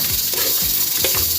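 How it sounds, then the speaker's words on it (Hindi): Mutton liver stirred with salt in a pan, a spoon scraping in a few quick strokes over a loud sizzle. "नमक डालकर हम इसको चम्मच की मदद से अच्छी तरह हिलाएंगे।"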